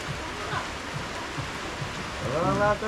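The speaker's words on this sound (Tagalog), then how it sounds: "Hindi kami makaalis-alis dahil sa ulan." Steady rain hisses and patters throughout during flooding, with faint voices and a brief louder murmur near the end.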